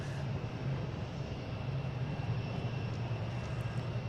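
United airliner lined up on runway 4 right at Boston Logan International Airport, bound for Norfolk as Flight 2040, producing a steady, continuous engine roar with a low hum throughout, no voices.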